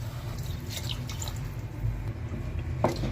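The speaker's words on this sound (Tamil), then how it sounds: "இப்போ வந்து 1 கப் அளவு அரிசிக்கு 2 கப் அளவு தண்ணி ஆட் பண்ணிடலாம்" Water pours into uncooked rice in a cooking pot for vegetable pulao, with a steady liquid trickle, light drips and small splashes close by and no talking.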